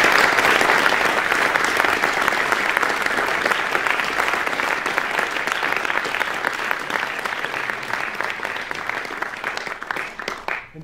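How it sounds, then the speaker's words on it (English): Sustained audience applause in a concert hall following a trombone recital, for the event's organizer; steady, dense clapping throughout that gradually thins and fades toward the end. "So please, let's give a big round of applause for Sam Goodhead for organizing all of this."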